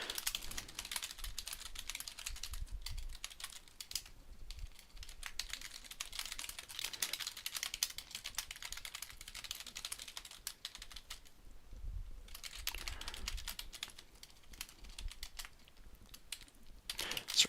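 Continuous computer keyboard typing at a desk, rapid close key clicks in bursts with a couple of short pauses, steady and moderately quiet throughout.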